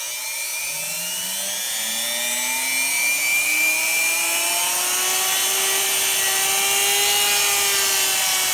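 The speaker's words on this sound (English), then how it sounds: "in order to turn on your Dremel, pretty self-explanatory, you just turn the button on" A Dremel rotary tool ramping up to higher speed, a loud close high-pitched whine that rises steadily in pitch and then holds at a fast, constant spin.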